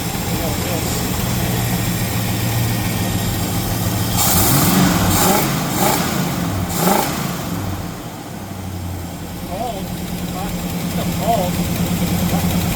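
A cold 1975 Chevrolet El Camino engine idles steadily at close range, a low uneven rumble, with a few brief louder bursts partway through.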